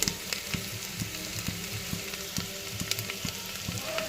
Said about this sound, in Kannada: ಕುಕ್ಕರಿಗೆ ಒಗ್ಗರಣೆಗೆ ಹಾಕ್ಕೊತಾ ಇದ್ದೀನಿ